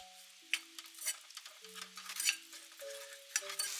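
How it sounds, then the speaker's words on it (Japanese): Miso, ginger, sugar and mirin stirred together in a pan over low heat, giving soft scraping and faint sizzling with scattered light clicks, close and quiet, over a steady tonal background hum. "弱火にかけながら混ぜ合わせて"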